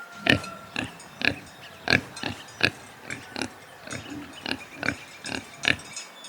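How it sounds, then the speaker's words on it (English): A pig oinks and grunts in a string of about a dozen short, sharp calls spaced roughly half a second apart. The calls are close and clear, with no talking. "Pig."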